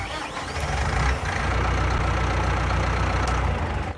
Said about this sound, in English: let me turn the engine over